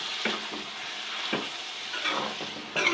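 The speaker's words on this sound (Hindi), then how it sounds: "तमाम मसाले शामिल कर दिए, अब हम इसको अच्छा सा भून लेंगे।" Chicken and chickpeas with spices sizzle steadily in a pan for murgh cholay, with a few soft stirring scrapes breaking the hiss; close and fairly loud, with no talk.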